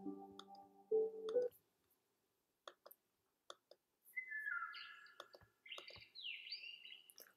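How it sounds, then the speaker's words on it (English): Songbirds in a natural outdoor setting chirp and whistle in short bright phrases, with scattered clicks between them and a brief tonal sound at the start, fairly faint and spaced apart. "plus all these lovely chirping birds"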